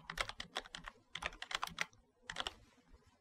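Bursts of fast typing on a computer keyboard, close and clear, in three quick clusters of keystrokes with short pauses between them and no voices.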